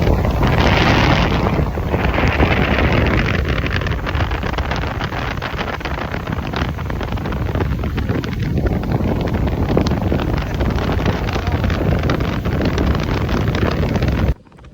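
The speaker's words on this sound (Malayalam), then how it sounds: "അത്രയ്ക്ക് കാറ്റാണ്, നമ്മുടെ ക്യാമറയ്ക്ക് തന്നെ അടിക്കുന്നത് കേൾക്കാം." Strong wind buffets the camera microphone during a boat ride through the mangroves of Langkawi, Malaysia, a loud continuous roaring rumble with gusty swells that stops abruptly at the end.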